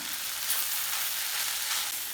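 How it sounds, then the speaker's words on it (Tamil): Bean and carrot stir-fry with grated coconut and chopped coriander being stirred in a hot pan, a soft, continuous sizzle and frying hiss with faint scraping, steady and close, with no voices. "நல்லா ஒன்று சேர கலந்து விட்டுக்கலாம்"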